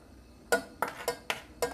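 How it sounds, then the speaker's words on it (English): A utensil strikes and scrapes a metal pan in five quick, sharp clinks while maple syrup and butter are stirred, close and fairly crisp over a quiet background. "you wanna stir it in with a little bit of butter on the top"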